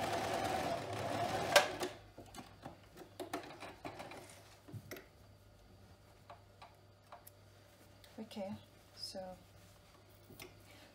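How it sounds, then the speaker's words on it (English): A sewing machine runs in a short fast burst while stitching a fabric face mask, followed by quiet clicks and small handling sounds, with someone talking softly throughout. "Make sure you backstitch to secure the edges."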